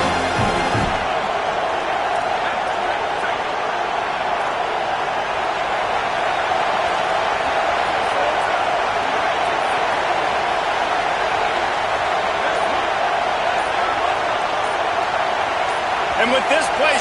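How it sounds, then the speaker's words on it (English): Loud, steady roar of a packed stadium crowd at a football game, sustained and dense throughout with a sports commentator speaking over it. "with this place rocking, the crowd forces a false start"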